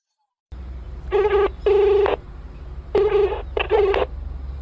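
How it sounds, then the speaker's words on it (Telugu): A phone call being placed sounds out as four loud electronic tone bursts in two pairs, each a steady buzzing ring on the line, separated by short gaps over a faint background hum. "షేర్కి ఇప్పుడే ఫోన్ చేస్తా"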